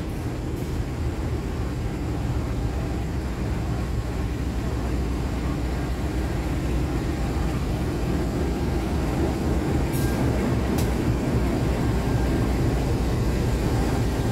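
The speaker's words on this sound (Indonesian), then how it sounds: "ini dia lokomotifnya Dinas Kereta Api Dharma Wangsa pada malam hari ini" A CC 201 diesel locomotive hauling the Dharma Wangsa train at night gives off a steady, loud low rumble and drone, unbroken for the whole stretch, with a couple of brief sharp clicks near the end.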